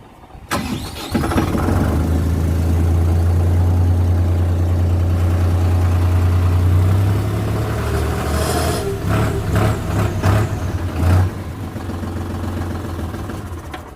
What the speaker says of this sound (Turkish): Dilerseniz traktörün bir sesine de bakalım.